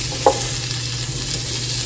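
Hamburger patties fry in a pan with a steady, continuous sizzle throughout, plus a brief clink or scrape of a utensil near the start; no one speaks.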